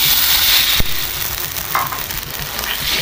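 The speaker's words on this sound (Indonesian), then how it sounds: "kita tunggu gulanya larut dan mendidih dan juga menjadi karamelisasi ya" Palm sugar, white sugar, salt and water cook down toward caramel in a pan for Sundanese gemblong, giving a steady close sizzling bubble with one sharp clink early on.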